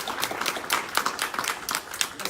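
A small indoor audience at a real estate lunch event applauds with scattered, moderately loud hand claps that carry on through the moment.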